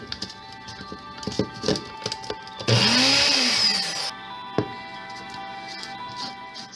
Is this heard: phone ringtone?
no